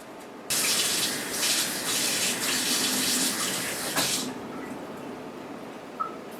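Tap water gushing steadily into a sink while a silicone mold is washed out, a loud continuous rush for several seconds that then stops, leaving faint clatter.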